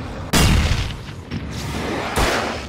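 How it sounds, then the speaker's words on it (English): Something catches fire in the Alan Wake video game: three loud, booming whooshes burst out close up, each decaying into a sustained roar, with no talking. "But first, I can light this on fire"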